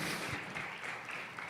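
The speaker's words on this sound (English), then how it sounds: "Let's welcome him with a huge round of applause." Steady applause from a large conference audience welcoming Mr. Jayant Mehta, Managing Director of Amul India, onto the stage at a health and wellness summit, a broad continuous wash of clapping heard at a distance and fairly faint throughout.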